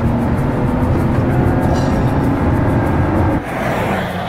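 A Lotus sports car engine drones loudly and steadily while driving, a dense low roar with a brief dip in level near the end.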